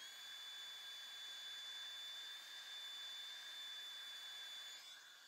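A heat gun blows hot air over a card for heat embossing, giving a steady high-pitched electric whine and airy rush that holds level throughout before dipping slightly at the very end.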